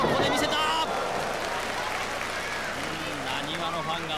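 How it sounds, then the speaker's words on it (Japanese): Fans at an All Japan Women's pro wrestling show in Osaka let out a crowd roar, loudest at the start and then a steady din under an announcer's commentary. "なにわのファンが思わずうおーという歓声を上げています。"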